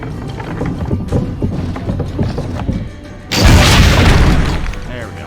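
A cannon fires in Assassin's Creed Brotherhood with a sudden loud blast that holds and slowly fades, following a stretch of busy game sound and muffled talk.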